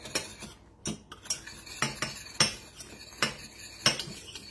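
A spoon stirring thickened syrup from canned pineapple in a pot, with repeated metallic clinks and scrapes in a loose rhythm about twice a second, close and moderately quiet, with no talking.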